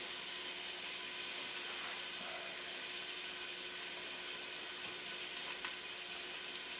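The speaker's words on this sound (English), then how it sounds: "And I hope you could hear that nice sizzle." Finely chopped garlic and onion sizzle in a hot pot on the stove, a steady, even crackling hiss that continues without a break.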